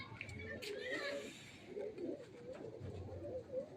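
Tournament racing pigeons coo softly in close, repeated low throaty bursts, with faint background noise around them.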